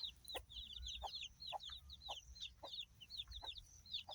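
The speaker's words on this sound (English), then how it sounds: "Free range foraging chickens." Free-range foraging chickens on a backyard village homestead cluck repeatedly in a rhythmic, fairly faint chorus. High chirps and a low background rumble sit underneath, and no one speaks.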